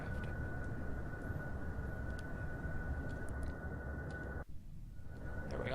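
An aircraft engine drones at cruising speed in the video game Kerbal Space Program, a steady broadband roar with a thin whine above it that drops out abruptly near the end before resuming faintly.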